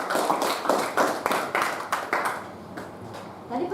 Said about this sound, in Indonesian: Tepuk tangan dulu untuk Penya.